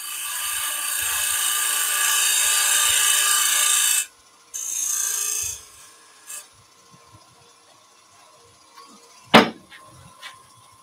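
A skew chisel cutting on a lathe-turned wooden seed pot maker gives a loud, steady rasping scrape for about four seconds, then a shorter burst, a few quieter scrapes and one sharp knock near the end.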